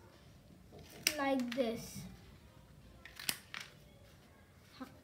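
Scissors cut through paper while a paper bell flower is being made, a few close crisp snips around a short spoken phrase, with handling rustle in between.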